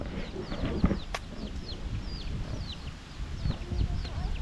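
Chickens cluck and chirp in short repeated calls close by in a storm-damaged rural yard after a super typhoon, with low background noise and muffled activity underneath.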